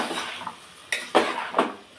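Bottle gourd pieces stirred in a cooking pan, a utensil scraping and giving three distinct metallic clinks against the pan, close and alone.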